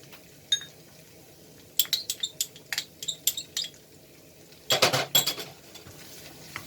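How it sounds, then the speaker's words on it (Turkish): A spoon scrapes and taps in a pan as fried tomato paste is stirred with black pepper and grated garlic, a quick run of close rhythmic strokes followed by a louder clattering flurry, with no talking. "Bunları karıştıralım."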